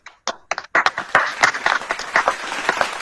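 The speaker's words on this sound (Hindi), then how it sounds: "आगे बढ़ने से पहले एक बार जोरदार तालियां हो जाए आप सबके लिए" Applause from an audience at a virtual event, starting as a few scattered claps and quickly building into dense, steady clapping that carries on to the end.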